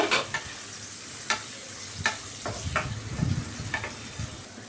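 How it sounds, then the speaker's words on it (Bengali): Chopped onions fry in oil in a pan for a gondhoraji boal fish dish, giving a steady close sizzle broken by sharp stirring clicks and scrapes. "ওই তেলে মেরে দিয়ে দিলাম পেঁয়াজ কুচি। পেঁয়াজটা ভাজা ভাজা করে নেব।"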